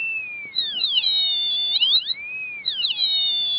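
A whistling electronic tone from a 555 timer oscillator sweeps slowly down and back up in pitch as light on it varies, alone and steady, with warbling high partials above it.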